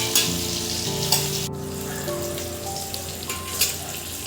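Potato pieces fry in hot oil for a Kashmiri aloo dum, giving a steady, close, dense sizzle and crackle that holds level throughout with no one speaking.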